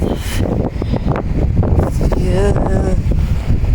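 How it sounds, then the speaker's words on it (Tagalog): Strong, cold wind in the Czech Republic buffeting the microphone in a constant roar, with a brief spoken word and faint background sounds. "Lamig. Lakas pa ng hangin ah."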